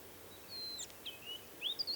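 Western Bristlebird on heathland giving a melodious call: a few thin, clear whistled notes, the last phrase rising and rolling, faint and at a moderate distance with no other sound.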